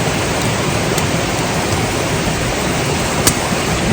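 Mountain valley stream at a solo bushcraft campsite flows in a steady, dense rushing wash of water, constant and fairly loud with no voices.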